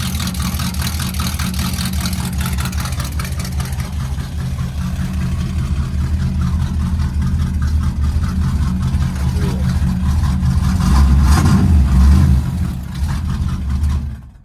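A 1976 Chevrolet Corvette C3 V8 idles steadily and loudly up close after a cold start, with a brief swell of revs near the end before it settles.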